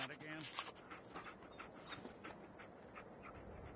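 Dogmeat, the dog companion in Fallout 4, panting with quick rhythmic breaths, fairly close but soft, mixed with low game ambience and a voice briefly speaking.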